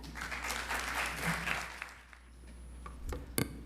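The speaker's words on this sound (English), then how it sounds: "let's give a warm round of applause" A lecture-hall audience claps to welcome a department chairperson at a memorial lecture event. The soft applause swells early, thins out midway, and ends with a couple of sharp closer knocks.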